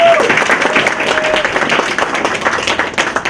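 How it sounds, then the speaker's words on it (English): Audience at a high school unity luncheon breaking into loud, dense applause that carries on steadily throughout, with a few voices mixed into the crowd. "Can we give her a round of applause?"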